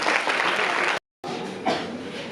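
Dense audience applause for Deepika Chaudhary at a girls' school quiz competition at Kanoi school, steady and full, with a brief total dropout in the middle before the clapping resumes.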